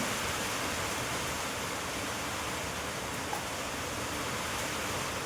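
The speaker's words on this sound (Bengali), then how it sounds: "এরকম যে বৃষ্টিটা হবে ফট করে বোঝাই যায়নি" Sudden rain pours down in a steady, dense hiss that stays even and unbroken throughout, with no voices over it.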